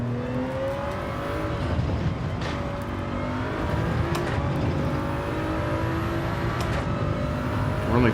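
A Porsche race car engine roars in Gran Turismo 7 during a Manufacturer's Cup practice lobby, loud and sustained, with pitch climbing through repeated gear shifts and other cars whirring nearby.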